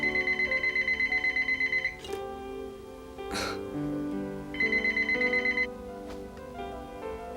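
A telephone rings in two clear bursts of rapid trilling bells, close and loud, separated by a quieter stretch with a faint gasp-like breath, no speech.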